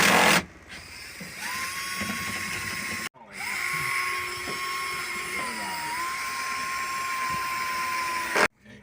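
A power drill with a special bit bores into rusted car body metal during budget auto body rust repair. The high steady whine runs loud and close in two long stretches, broken by a brief stop.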